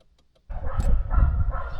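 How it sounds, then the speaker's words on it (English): Several dogs barking somewhere down the street, distant and overlapping, a sudden burst of loud outdoor noise after a quiet moment with no talking. "Some dogs kicking off down the street."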